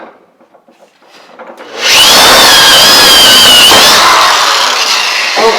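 A power drill bores a large hole through a 55 gallon plastic drum, quiet handling noises first, then a loud, steady grinding whine from about two seconds on that holds to the end.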